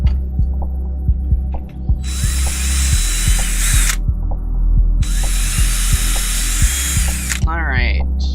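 A power drill fitted with a 4 millimeter bit runs in two sustained whirring bursts with a pause between, set against steady background hum and tapping, followed by a brief voice.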